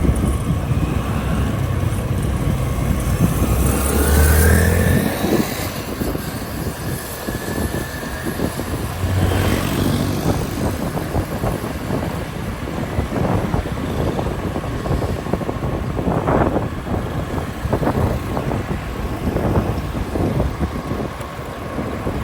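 Gusty outdoor wind buffets the microphone near a bus rapid transit route and passenger station under construction, a steady broadband rush with low rumbling surges and no voices.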